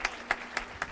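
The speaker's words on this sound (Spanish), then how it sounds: "puede darle un buen aplauso al Señor" A church congregation claps in unison during a service, giving four evenly spaced, fairly loud beats in under a second.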